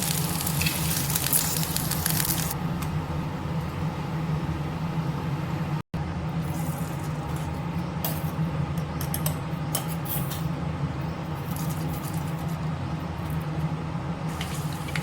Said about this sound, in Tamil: கடுகு வந்து நல்லா பொரிச்சிருச்சு